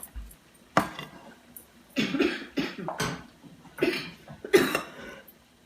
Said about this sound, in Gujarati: બહુ ખરાબ ઉધરસ થઈ ગઈ છે